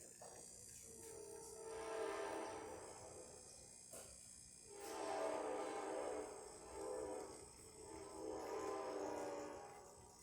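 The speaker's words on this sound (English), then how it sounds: "this is just our test coffee, so it might not come out as the perfect shot, but it's just to demonstrate that the machine is working" Anza espresso machine pulling a test coffee shot, a faint hissing, gurgling hum that swells and fades in several waves over a low steady drone.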